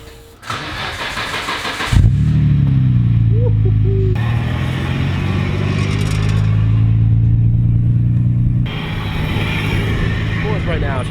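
A Nissan Skyline GT-R project car, broken and under repair, starts up and drives with a loud, close engine note that rises and settles through gear changes, while people talk in the car.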